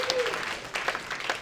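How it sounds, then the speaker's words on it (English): Applause from a tech demo night crowd in San Francisco for a startup presenter, a moderate patter of clapping lasting about a second and a half with faint voices mixed in. "Round of applause for Tabard."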